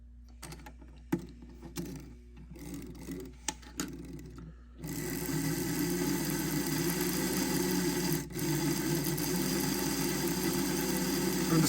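Kleinbahn Blauer Blitz model train motor with nylon gears on a restoration bench, a few brief stuttering starts and then a steady, loud mechanical whir with a gear-driven buzz running continuously, broken only by one quick dip.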